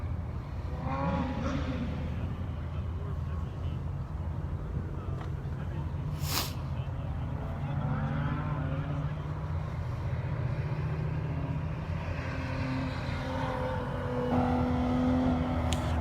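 A car circles a dry skid pad, its engine a continuous mid-distance drone that rises and falls with each pass, while people speak over it.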